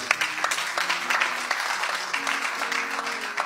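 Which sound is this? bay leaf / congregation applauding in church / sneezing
congregation applauding in church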